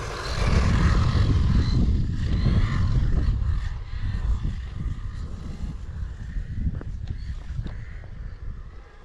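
A model airplane's buzzing propeller engine drones steadily, its pitch shifting as it passes, with wind noise rumbling over the microphone.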